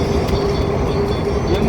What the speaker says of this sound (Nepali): यो माथि ट्रेन गयो। माथि चाहिँ ट्रेन कुद्छ है